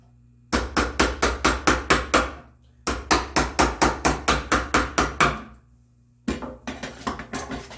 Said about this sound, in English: I'm going to take the chisel, bevel down,